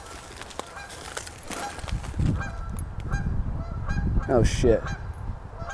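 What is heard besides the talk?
goose honking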